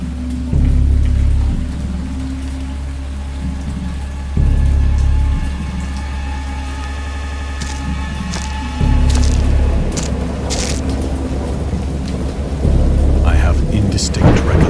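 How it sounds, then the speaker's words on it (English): Heavy thunderstorm with steady rain on surfaces and repeated deep thunder rumbles rolling in roughly every few seconds, loud and close. "Distinct recollections of a great storm sometime after I reached the boat."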